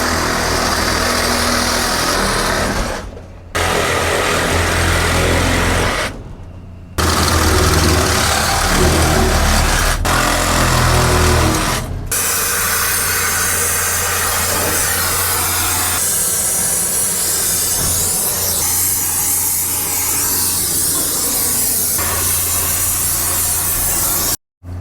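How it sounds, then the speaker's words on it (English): A refrigeration rack has its valves cut out, giving a loud, harsh hissing and grinding roar at close range in long bursts broken by two short silent gaps, then settling into a steadier, rougher whir. "Now we're going to cut these valves out."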